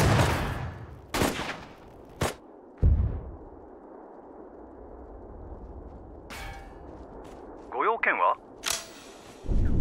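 Gunfire and artillery in the World War II strategy game Sudden Strike 4: loud broadband blasts and rattling bursts that come in irregular clusters, with a quieter rumbling stretch between them and brief unit voice chatter.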